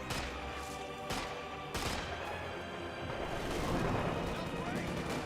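Artillery shells land in a Company of Heroes 2 battle, several heavy booming blasts spaced across the moment amid dense rumbling gunfire, loud and continuous, with someone talking over it.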